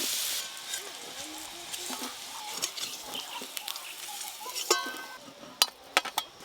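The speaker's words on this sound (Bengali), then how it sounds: "আলুগুলো লাল লাল করে ভাজা হয়ে গেছে," Potatoes frying in oil in a village kitchen, a steady soft sizzle with scraping stirs and a few sharp utensil clinks toward the end, no talk.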